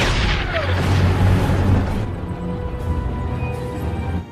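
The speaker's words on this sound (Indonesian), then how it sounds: "Namun tiba-tiba mereka dikejutkan oleh serangan tank panzer." Panzer tank attack in the war film Saint and Soldiers: heavy booming explosions and rumbling blasts, loud and dense through the first two seconds, then a lower sustained rumble with scattered crashes and debris.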